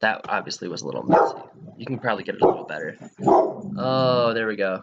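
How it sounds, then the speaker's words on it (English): A pet dog barks and growls near a music producer working on a custom drum tutorial, short gruff yips breaking in around someone talking, then a longer whine-like bark at the end. "That's my dog"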